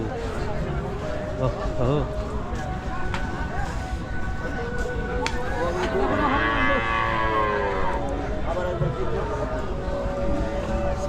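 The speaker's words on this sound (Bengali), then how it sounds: "এই পাশে মূলত ছোটো ছোটো যে বাছরগুলো থাকে সেগুলো সব দেশি লাল" Cattle and small local red calves moo at a busy Singair cattle and goat market, with a long clear bellow standing out midway over steady crowd chatter and voices close by.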